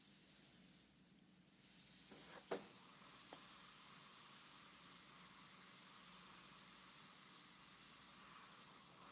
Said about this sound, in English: I'm just going to airbrush over that ugliness